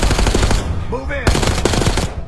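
Rapid machine gun fire rattles in dense bursts in Call of Duty: Black Ops 6, broken by a short lull with a brief tonal call before the loud firing resumes.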